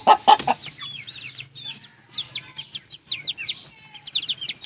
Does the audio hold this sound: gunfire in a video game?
no